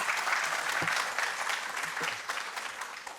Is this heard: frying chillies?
no